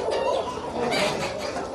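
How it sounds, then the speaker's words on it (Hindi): Pure desi rooster clucking in a farm setting, a steady run of close, fairly loud bird calls filling the short stretch without pause. "ये होता है प्योर देसी मुर्गा।"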